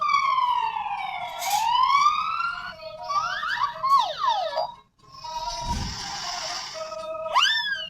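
A toy police siren wails and sweeps in electronic tones, shifting through several rising and falling patterns, loud and close with no talking.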